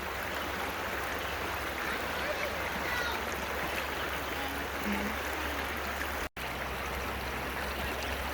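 Creek water flowing and splashing steadily around people wading through a shallow creek, a continuous near rush of water with one sudden brief dropout.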